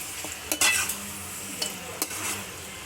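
A spoon stirs and scrapes through Pallipalayam chicken chintamani frying in oil in a pan, with a steady low sizzle under a few distinct metallic scrapes and clinks, close up and with no voices.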